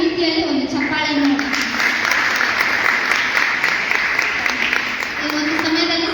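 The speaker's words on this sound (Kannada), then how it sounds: "ಅವರಿಗೆ ದೊಡ್ಡದಾದ ರೀತಿಯಲ್ಲಿ ಒಂದು ಚಪ್ಪಾಳೆಯನ್ನು" A congregation at a Christian ministry prayer gathering in Hubballi claps in a sustained round of applause, with a voice speaking over it at the start and end.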